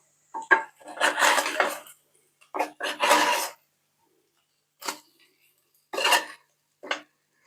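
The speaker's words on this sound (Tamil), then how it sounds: "இப்போ கிளறணும்." Colocasia (chapan kalangu) frying with chili powder in a pan is stirred in short bursts of scraping and clattering, several separate strokes with brief pauses between them, close and fairly loud, with no talking.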